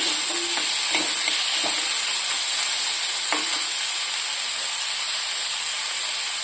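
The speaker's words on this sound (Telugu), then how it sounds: "ఇవన్నీ వేసుకుని చక్కగా ఒక 2 minutes వేయించుకోవాలి" Onions, curry leaves and seasonings fry in a pan with a loud, steady sizzle and hiss, broken by a few scraping stirs near the start.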